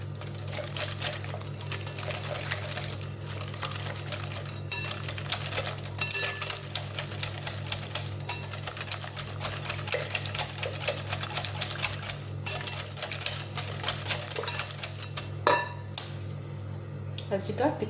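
Batter with a spoon of caster sugar mixed in a bowl at home, the utensil clicking rapidly and steadily against the bowl for the whole stretch over a low, constant background hum.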